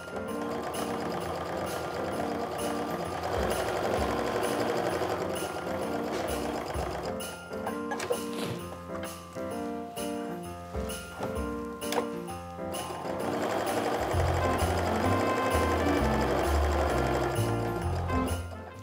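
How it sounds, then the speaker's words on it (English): A sewing machine stitches a quarter inch seam up and down both sides of two fabric pieces placed right sides together for a snowflake mug rug, a steady mechanical whirring running loud and close, pausing briefly mid-run before starting again. "I'm going to sew up and down both sides using a quarter inch seam"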